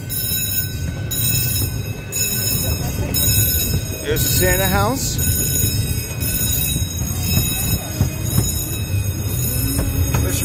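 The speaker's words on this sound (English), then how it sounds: "This train literally takes you through the entire park." A small amusement park train rumbles steadily along its rails through Storybook Land, wheels screeching briefly partway through, while someone talks over the noise.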